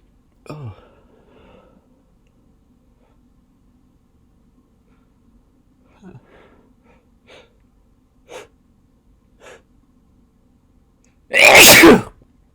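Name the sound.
induced sneezes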